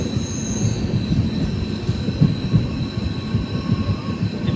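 Express train pulling into Tenkasi railway station, a steady loud rumble of rolling wagons with wheel thumps and faint high squeal, no voices.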